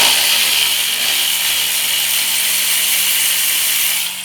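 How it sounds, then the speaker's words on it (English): Electric ratchet gun spinning out hub bearing bolts on a Chevy Malibu, a loud, steady, gritty mechanical whir lasting about four seconds and trailing off at the end. "I'm gonna get in there with the electric ratchet gun"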